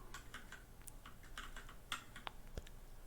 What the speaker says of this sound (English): Hope you guys are enjoying the keyboard sounds.